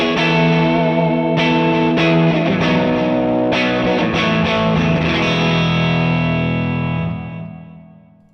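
Overdriven yet clean Dumble-style electric guitar through ToneX with modulation switched off, strummed chords ringing loud and full, a few picked accents on top, then fading out near the end; no voices.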